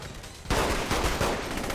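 Sniper gunfire in the Saints Row 3 video game: a burst of loud, rapid, repeated shots starts abruptly after a short quieter stretch and keeps going to the end.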